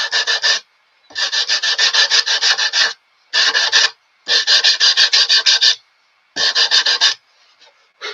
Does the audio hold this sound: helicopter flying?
no